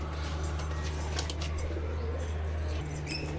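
Jiriya pigeons kept as racing birds coo softly in a loft, low repeated murmuring calls over a constant low hum, fairly close and without talk.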